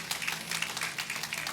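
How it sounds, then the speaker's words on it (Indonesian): A church congregation applauding during a service: a dense spread of many hands clapping together, steady and fairly quiet as if heard from a distance across the hall, with no voices over it. "Tepuk tangan dulu untuk Tuhan"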